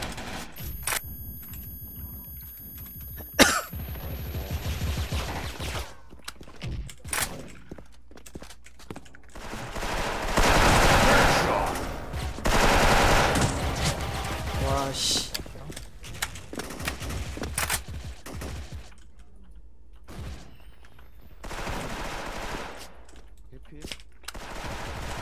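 Gunfire crackles in the online shooter Special Force, with rapid automatic bursts and single shots, some loud and close and others distant, separated by quieter pauses, with occasional voices mixed in.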